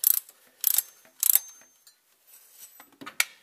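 A wrench loosens the off-center bolt on a Chevette engine's timing belt tensioner pulley, making a few short, close ratcheting bursts with quiet gaps and some light metallic handling noises.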